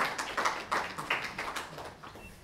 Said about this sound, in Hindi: हम तालियां बजा के इस्तेमाल करते हैं